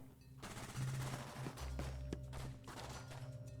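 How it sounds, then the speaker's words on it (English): Bursts of rapid gunfire crack and rattle over a droning background in an SCP-1765 video, with sharp individual shots and thuds in quick succession. "gunfire!"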